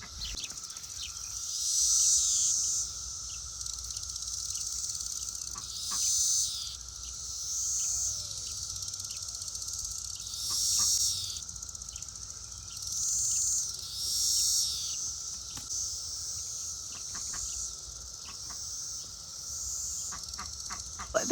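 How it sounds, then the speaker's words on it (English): A loud, pulsing insect drone from many cicadas, swelling and fading in waves over a steady background hum. "we've got cicadas everywhere. You can hear them."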